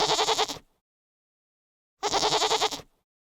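Two loud, close goat bleats, each a wavering, pulsing cry of about half a second to a second, separated by a clean silence.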